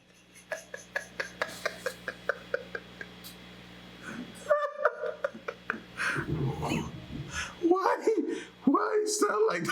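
A frog gives a rapid series of short, loud, regular croaking yelps resembling a cat's cry, then harsher, drawn-out yowls mix with someone talking over them.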